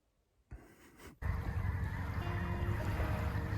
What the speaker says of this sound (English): Sounds like some geese off in the distance there.